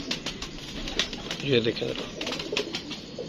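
A female teddy pigeon gives a soft, short coo up close, amid faint rustling and someone speaking nearby.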